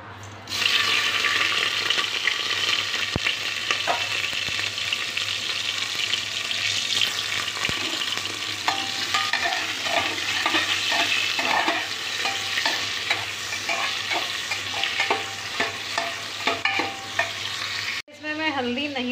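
Chopped tomatoes hiss and sizzle loudly in a hot pan with cumin and mustard seeds while a spoon stirs them, scraping and clacking repeatedly until the sound cuts off sharply near the end.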